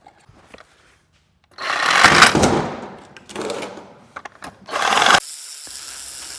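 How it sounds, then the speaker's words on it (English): Reciprocating saw cutting into the armature of a vintage Coleman generator, three loud rough buzzing bursts of a second or two each with brief gaps between, close up and without talk. "This Recip saw sucks."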